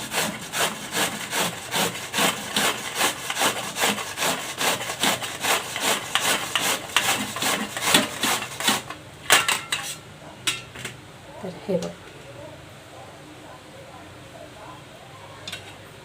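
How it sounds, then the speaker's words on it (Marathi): Peeled raw mango is grated by hand in long strokes, a close rhythmic series of rasping scrapes for about nine seconds, then a few scattered strokes and quiet handling as someone talks. "आता याला किसून घ्यायचं आपल्याला असं लांब पकडून अशा पद्धतीने ते किसून घ्यायचं आहे"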